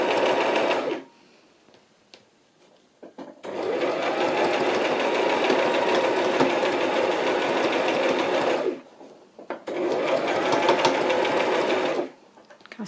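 A sewing machine runs along the edge of lace fabric in two long, steady bursts of close, loud mechanical whirring, separated by short pauses.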